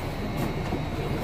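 A MARTA Red Line subway train at night gives a steady rolling rumble and hiss from inside the car, loud and continuous with no talk.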